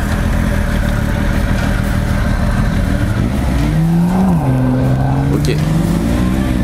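A Triumph Speed Triple 1050 RS motorcycle, 2018 model, roars loud and close on a road, its engine pitch climbing, dropping briefly at a quickshift and climbing again. A rider's voice is heard over it.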